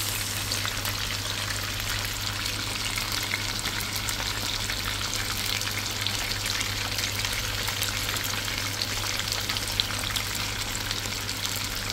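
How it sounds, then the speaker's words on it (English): Salmon fries in hot oil with a steady, loud, dense sizzle and crackle that continues without a break, close up, with no talking. "Now flush the oil in the middle of the fish so the inside can fry properly."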